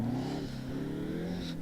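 Simulated Golf 3 VR6 engine in Test Drive Unlimited, a steady low hum that settles after starting and holds fairly evenly for about a second and a half, ending in a sudden sharp burst.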